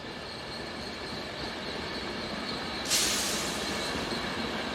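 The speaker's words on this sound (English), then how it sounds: "Arriving with a stopping service is this Class 310 tilting train set, forming the O350 from Maribor." Class 310 tilting train set pulling in with a stopping service, a steady rolling rumble close by with a sudden sharp hiss of air or brakes partway through.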